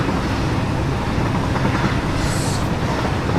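A train in the Satisfactory video game rumbles past on its tracks, a loud, steady roar of rolling wheels and engine that fills the whole stretch without pause.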